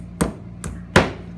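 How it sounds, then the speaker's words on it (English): A hammer taps wooden dowels into a Big Horn doweling jig, giving three sharp, close strikes, the last one the loudest, with no voices. "I'll give me a hammer there"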